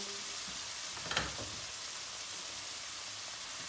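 Halva being stirred in a hot pan just after syrup is poured in, giving a steady loud sizzle with a brief scraping stir burst near the start.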